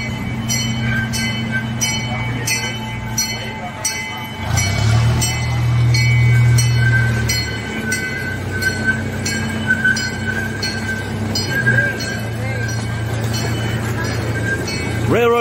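A train rumbles past a railroad crossing near the Disneyland Hotel with a steady low drone and metallic ringing tones, while people talk nearby.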